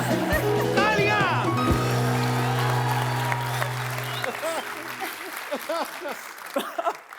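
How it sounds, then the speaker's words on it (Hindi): Studio audience applause on a Hindi TV show rises under sustained musical tones and loud talk, then thins out as chatter continues. "तालियां।"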